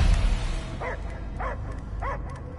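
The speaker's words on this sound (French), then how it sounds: "Il est toujours là! Je l'entends! Et j'entends que des aboiements!" A dog in the Guardians of the Galaxy video game barks three times at steady intervals, fairly close, over a constant low bed of game music and ambience.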